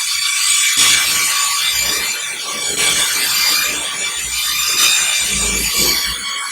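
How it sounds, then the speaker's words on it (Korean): Ceramic paint being mixed and stirred before application, the paint and ceramic components blended together, giving a continuous close scraping, rubbing churn with steady rhythmic strokes and no talking. "이렇게 시공 전에 교반 작업을 자체적으로 해줘야 됩니다."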